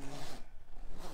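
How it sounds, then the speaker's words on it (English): Zipper on a Strada stroller hood being pulled open along the seat, a quick close rasping zip lasting about a second, loud and alone. "our one is zipped to the seat, so you just need to unzip it"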